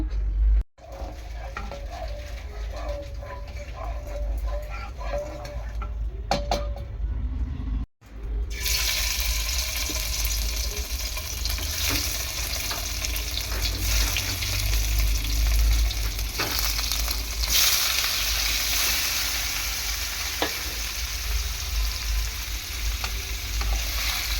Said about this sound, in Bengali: পরিমাণ মতো একটু তেল দেব পনিরটা ফ্রাই করার জন্য